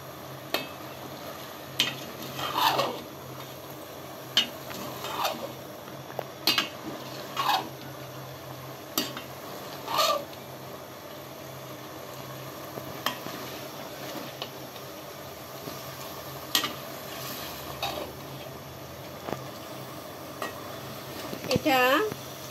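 Sago and vegetable pulao being stirred and fried in a pan, with scattered scraping clinks of a spoon against metal and a faint sizzle underneath, fairly quiet and irregular, with some soft voices in the background.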